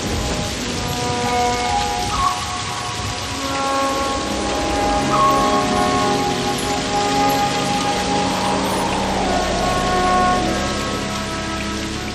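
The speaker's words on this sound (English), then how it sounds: "the rains come at last" Heavy monsoon rain falls steadily and evenly across a wide area, a dense continuous hiss with no voices and a faint low rumble underneath.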